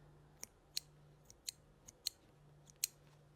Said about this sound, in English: I want some better precision scissors.